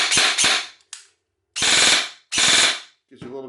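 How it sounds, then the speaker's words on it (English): A G&G ARP airsoft gun fires on an 11.1 volt battery in four rapid full-auto bursts, loud and close, with sharp quick shots and brief silences between bursts. "we're just gonna put some batteries on it just to show you how quickly this gun fires"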